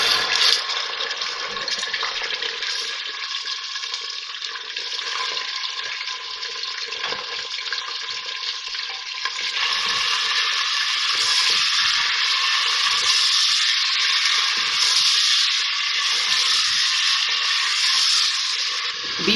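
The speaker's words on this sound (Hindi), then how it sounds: "बीफ डालने के बाद 2 से 3 मिनट मैंने इसकी अच्छी सी भुनाई कर ली।" Beef sizzles in spiced oil in a pan, a continuous dense crackling hiss that holds steady for the whole stretch and gets slightly louder partway through, close up with no voices.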